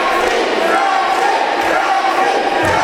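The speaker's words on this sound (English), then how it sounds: "And the crowd getting behind Aaron Matthews" A wrestling event crowd cheering and roaring in an arena, a dense, steady wash of many voices at constant loudness for the whole stretch.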